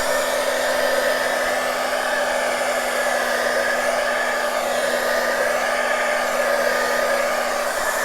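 Heat tool blowing steadily on the back of a beeswax-coated journal cover, a loud continuous whooshing roar with a constant motor whine, close by and alone for the whole stretch.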